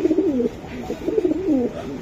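Racing pigeons wearing club tags coo nearby, several soft, rolling throaty coos that rise and fall in quick succession, with no talking.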